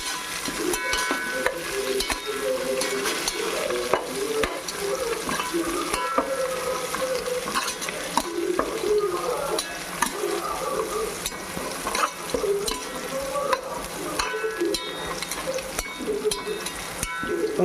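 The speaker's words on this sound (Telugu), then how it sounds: "కొత్తిమీర, పుదీనా వేసుకున్నాక కొంచెం తిప్పుకుందాం" A spoon stirs masala frying in a pan with coriander and mint for pipes biryani. It makes a steady close sizzle with repeated scraping stirs that carries on alone throughout.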